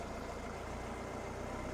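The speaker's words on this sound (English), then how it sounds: "So I'll do that again with the engine running." A 2003 Nissan X-Trail T30 with a 2.2 dCi diesel engine idling with an accelerator fault that keeps it from revving, a steady low rumbling drone heard close with no speech.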